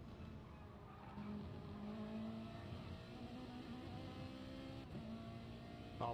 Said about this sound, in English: we'll just listen to the revs and to see how much he's short shifting